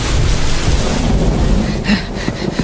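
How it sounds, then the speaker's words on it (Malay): A thunderstorm with heavy rain gives a loud, unbroken wash of pouring rain and deep rumbling throughout, with a brief swell near the end. "Hujan semakin lebat."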